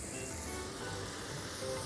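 Chopped green peppers sizzling in a pot with mushrooms, a steady, faint continuous hiss with no talk.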